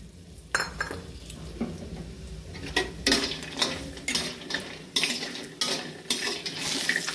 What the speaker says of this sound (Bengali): লাল লাল করে বড়িটা ভেজে নেব